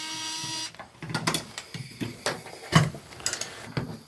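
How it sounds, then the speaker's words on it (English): A small electric screwdriver removes screws from a tub faucet handle, with a short motor whir at first. Clicks, taps and the light clatter of handling the parts follow close by. "if you don't have one of these electric screwdrivers yet, these things are absolutely awesome for small repairs where you have tons of screws"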